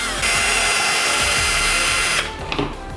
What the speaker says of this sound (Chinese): 钻孔啊，我们直接用那个电钻钻孔